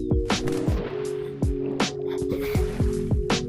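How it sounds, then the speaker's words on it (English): Splashing and squishy water movement in the video game Yeeps, with repeated soft drips and plops falling in an uneven rhythm over a constant steady tonal hum. "Swim through the water,"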